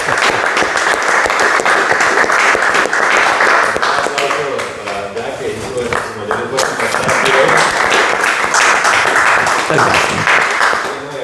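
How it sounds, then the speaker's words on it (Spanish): Loud, sustained applause from an audience at a literature event honors guest Faustino, with crisp massed clapping running throughout and voices mixed in underneath. "y no sé si le damos un aplauso."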